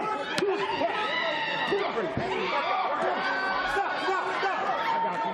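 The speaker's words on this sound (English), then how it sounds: "And there's some Canadians in the crowd making some noise now." Crowd at a boxing card, Canadian fans among them, making a busy murmur of chatter, cheers and laughter that fills the background beneath a commentator's steady talk.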